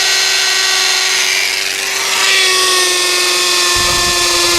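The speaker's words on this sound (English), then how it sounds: "We scored the hard tile with a 1/2-inch masonry bit." A power drill with a 1/2-inch masonry bit grinds into hard tile, a loud, continuous high-pitched whine with steady tonal hum that barely varies for the whole stretch.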